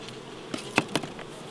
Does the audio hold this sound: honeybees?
yes